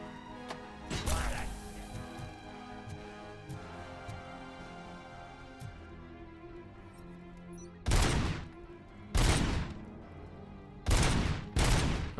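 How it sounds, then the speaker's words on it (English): Turret machine-gun fire in RoboCop: Rogue City, heard as a loud burst near the start followed by three sharp, powerful bursts spaced about a second apart toward the end, with a quieter rumbling stretch in between. "I got a freaking turret, dude."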